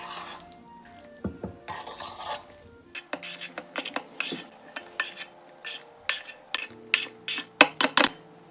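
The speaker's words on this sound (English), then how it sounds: "we'll combine the wet and dry ingredients in one big bowl and stir it until they're smooth" Banana muffin batter being stirred in a big bowl, with repeated close scraping and clinking strokes of a utensil against the bowl that grow steadier and louder, and no talking.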